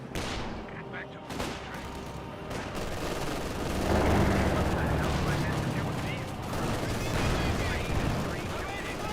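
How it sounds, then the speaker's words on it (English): A rifle grenade and gunfire crackle and thump in a Company of Heroes 2 battle, dense overlapping shots and blasts rumbling through a thick, continuous wash of game noise. "Rifle grenade fired."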